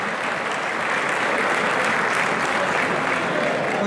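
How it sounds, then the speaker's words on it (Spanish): An audience at a Peña Azul y Oro club gathering in Arroyito claps steadily for the club president, loud, dense applause holding evenly throughout. "Damos un fuerte aplauso."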